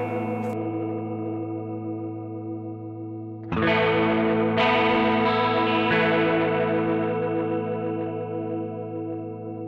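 Electric guitar played through a Boss MD-200 modulation pedal on its overtone harmonizer setting: a sustained shimmering chord, then a louder restruck chord around the middle that blooms with chorus-like doubled overtones and slowly decays, alone without speech.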